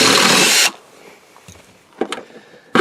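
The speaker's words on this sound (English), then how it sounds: "Drill the hole." A power drill boring a hole for expansion rivets runs loud and steady for a brief burst, then stops, followed by a few faint handling clicks and knocks, close up.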